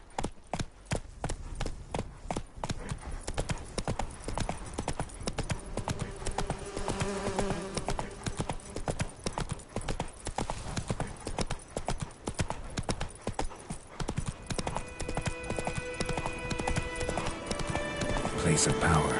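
Galloping horse hooves in The Witcher 3: Wild Hunt video game, a rapid, regular clip-clop running steadily throughout, with a whinny and faint insect-like buzzing over it and someone talking intermittently.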